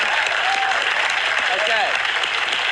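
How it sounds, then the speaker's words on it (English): A training-session audience claps for a volunteer called up to the stage, a dense, steady round of applause with faint voices and a whoop or two mixed in. "Let's give David a round of applause."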